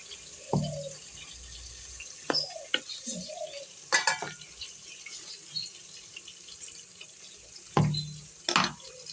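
Masala stirred and frying in a pan in a home kitchen, with soft sizzling broken by several sharp scraping strokes of a utensil against the pan at irregular intervals.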